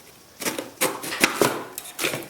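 A big drywall knife is forced into a tight caddy slot, giving a series of sharp metallic scrapes and clacks in uneven bursts, close and fairly loud.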